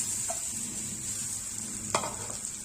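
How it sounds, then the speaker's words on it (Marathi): Peanuts frying in oil with chili and soaked sabudana for a fasting thali, giving a continuous close sizzle with a faint stirring clink near the start and one sharp utensil scrape in the middle. "शेंगदाणे छान फ्राय झालेले आहेत"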